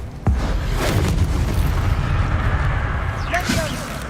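A Bombarda blast spell in Hogwarts Legacy erupts as a deep booming explosion near the start, followed by a sustained rumbling roar with whooshing bursts and brief high chirps toward the end.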